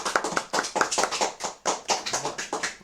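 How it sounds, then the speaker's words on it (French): A studio audience applauds at a radio show with quick, fairly regular claps in bursts, close and lively, about a dozen sharp hits per second without a break. "ça mérite aussi des applaudissements."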